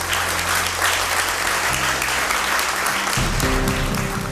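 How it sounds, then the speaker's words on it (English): Audience applause at a motivational talk, a dense burst of clapping that fills the room and holds steady, with faint voices briefly underneath. "Let's give her a round of applause."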